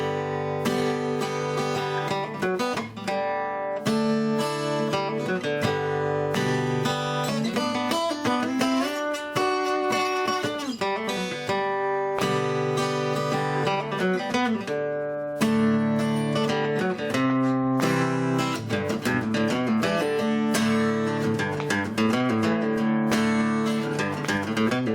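Acoustic guitar playing the linking phrase from a song, quick picked notes and ringing double stops on the second and third strings in a steady flowing rhythm, close and clear with no talk.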